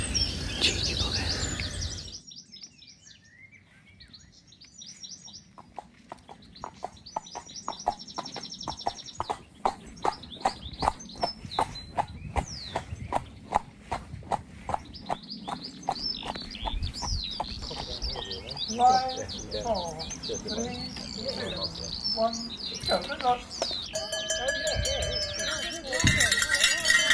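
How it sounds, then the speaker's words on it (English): Birds chirp and trill on and off in the open near water, with a run of rhythmic knocking sounds and a soft rushing background. "Nothing but the sound of birdsong, water, and the occasional cyclist saying good morning."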